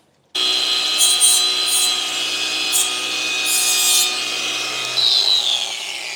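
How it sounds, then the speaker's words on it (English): A flap disc on an angle grinder tidies the edges of a Lambretta hydraulic disc brake part, a loud continuous high-pitched whine and rasping grind that starts abruptly and holds steady with slight pitch shifts. "Just used flappy disc on there just to tidy up the edges."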